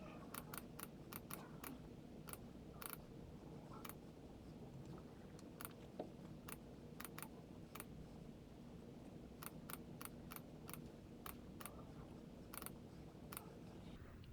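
Quiet keystrokes on a computer keyboard while entering numbers into a calculation, short irregular taps in scattered bursts over a steady low room hum, close by, with no talking.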